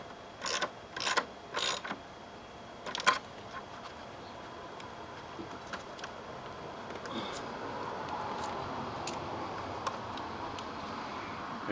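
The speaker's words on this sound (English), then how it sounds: "I'm going to double check them all with a ratchet just to be sure." A ratchet double-checking the battery terminal connections on a Honda CR-V gives several sharp, close clicking bursts in the first few seconds, then a steady low background hiss with faint scattered ticks.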